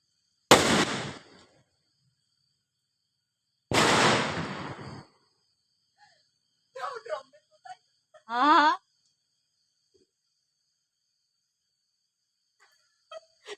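Rocket fireworks set off during Diwali celebrations: two loud, sharp bangs a few seconds apart, each trailing briefly into noise, followed by scattered short voices and faint chirps in otherwise quiet outdoor air.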